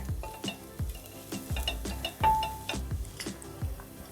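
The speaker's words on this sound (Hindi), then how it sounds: "अदरक को हम थोड़ा सा सौते कर लेंगे।" Soft sizzling of ginger sautéing in ghee in a pot under repeated stirring scrapes and light clinks of a utensil, with one brief metallic ring partway through.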